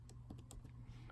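Quick keystrokes on a computer keyboard, a brief run of soft clicks tapped in an uneven rhythm, close and faint over a low steady hum.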